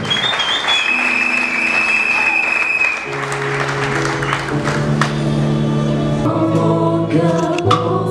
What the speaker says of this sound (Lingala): Acclamons très fort pour notre Dieu.